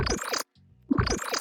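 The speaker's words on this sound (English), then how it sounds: "it has that sparkly spectral sound" A resampled synth sound treated with a sparkly spectral effect in Bitwig Studio plays in bright bursts on either side of a brief near-silent gap.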